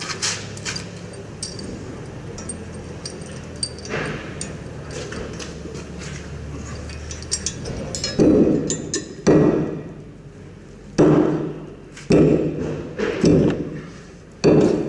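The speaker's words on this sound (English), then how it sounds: "this one we've given it a fair old whack and she's not going to come, so we're going to use a puller" Puller tool working a stuck part off a boat, a string of close metallic ticks and clicks followed by several loud heavy bursts of effort at irregular intervals.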